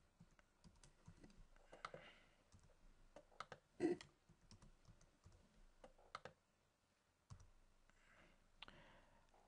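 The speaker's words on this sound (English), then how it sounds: "So all I need to do now is just start to type in some data." Keys clatter in irregular bursts and single clicks as data is typed into an Excel spreadsheet embedded in a Word document, close and fairly quiet, with short pauses between runs of keystrokes.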